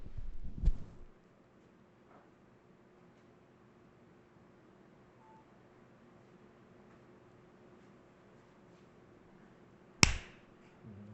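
Two sharp, isolated finger snaps sound close by, one near the start and another toward the end, with a long stretch of quiet room tone between them.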